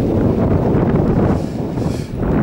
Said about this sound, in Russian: Ветер поднимается, будет шторм.